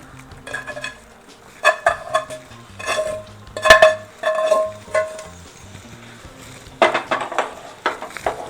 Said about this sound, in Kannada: ಇವಾಗ ಫ್ರೈ ಆಗಿರೋ ಮಶ್ರೂಮ್ನ ಹಾಕ್ಕೊಳ್ತಾ ಇದ್ದೀನಿ